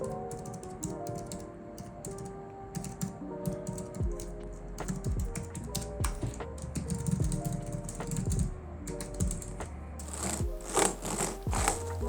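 Rapid, steady typing on a Logitech MX Keys for Mac keyboard, close and clear, with dense overlapping key clicks and occasional louder thumps like a spacebar, a fairly quiet, low-profile clatter throughout.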